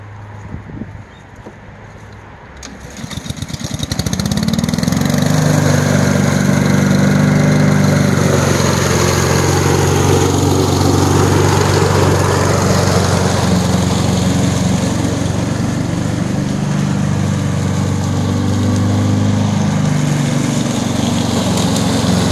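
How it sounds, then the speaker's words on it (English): A Honda MegaMulch lawn mower with a multi-blade mulching system runs loud and steady through leaves, rising from a quieter start into a continuous engine roar with leafy crunching mixed in. "great multi-blade mulching system with this crazy mower here"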